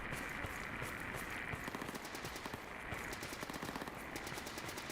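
Rapid automatic gunfire in a video game, a dense stream of crackling shots running the whole time at moderate, steady loudness with no pauses.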